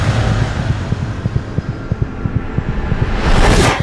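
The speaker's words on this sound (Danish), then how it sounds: "Skulle vi tjekke hjertet, som det første, lad os høre?" Steady low thumping heartbeat effect in a haunted house attraction, loud and close with regular beats under a dense rumbling hum that swells toward the end.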